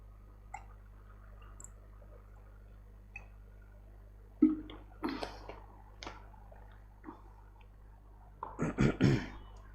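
A man drinks water in a quiet room: a few soft gulps and swallows, with a brief sip near the middle and a cluster of closer gulps at the end.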